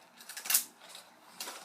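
A Wizard of Oz toy makes its clicking heels sound, a quiet flurry of light mechanical clicks, with one brighter burst early and another short cluster toward the end.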